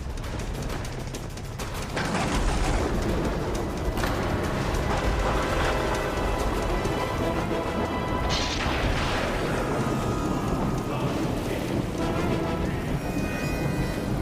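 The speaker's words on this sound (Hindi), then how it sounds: "इतनी बारिश और तूफान में कहाँ जा रहे हो?" Heavy rain pours steadily as a storm roars, with sudden crashing thunder rolling through the downpour.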